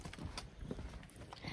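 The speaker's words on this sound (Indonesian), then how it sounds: "bawa kuda poni" A pony's hooves clip-clop on a mountain trail on Mount Papandayan, a few soft, fairly faint irregular hoof knocks over outdoor ambience.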